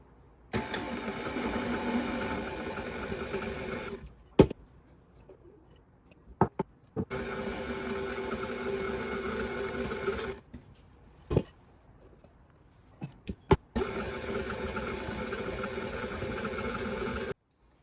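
An electric mixer runs on low speed through cookie dough for double chocolate chip cookies, humming steadily in three long bursts separated by short pauses and a few clicks, close and fairly loud with no talking.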